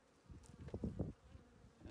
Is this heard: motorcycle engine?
no